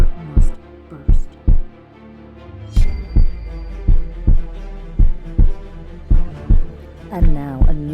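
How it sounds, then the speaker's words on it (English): Heartbeat sound effect in lub-dub pairs, a loud, deep and steady rhythmic thumping that repeats about a dozen times and sits alone over a low droning hum. "But the beating grew louder. I thought the heart must burst."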